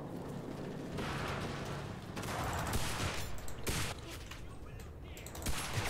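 Rapid bursts of gunfire from a fast-firing weapon in the video game Enlisted, loud and close, coming in several stuttering volleys separated by short gaps, with a voice speaking briefly between shots.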